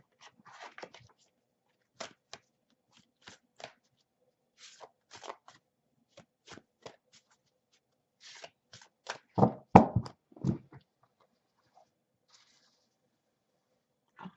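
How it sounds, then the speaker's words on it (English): Soft, quiet shuffling of an oracle card deck, irregular short riffles and slides of cards at close range, building to a few louder snaps near the end with no talking. "let me just shuffle and see what the universe try to"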